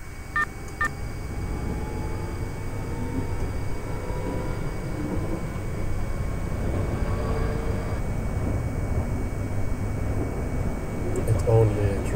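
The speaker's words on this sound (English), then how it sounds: "I'm going to release the brakes and we'll listen to the train departing here" A London Underground Northern Line train pulls away after its brakes are released, a steady rolling rumble of motor and wheels filling the cab, with faint tones near the end.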